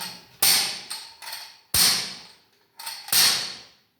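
A few sharp knocks on a tambourine, with a faint jingle ringing out after each hit and short pauses between strikes.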